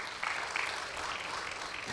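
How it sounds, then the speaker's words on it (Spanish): A church congregation at an Easter communion service claps in gratitude, a soft, fairly distant wash of applause that stays even throughout. "dale un aplauso de gratitud al Señor"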